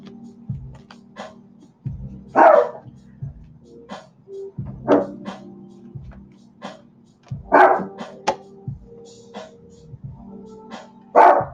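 A dog barking indoors, reacting to someone outside, giving loud single barks at irregular intervals of a couple of seconds, with a low hum and brief talk between them.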